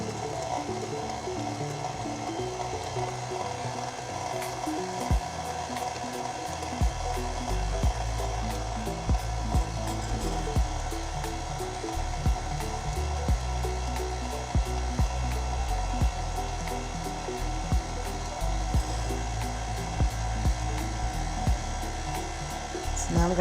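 Electric mixer beats pound cake batter with eggs, running as a steady, moderately loud motor whir with a repeated faint clatter from the beaters, continuous throughout with no talk over it.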